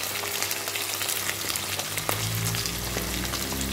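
Curry leaves, chopped onion and green chillies frying in hot oil in a pan, a steady loud sizzle and crackle throughout, with a short burst of spattering partway through and no talking.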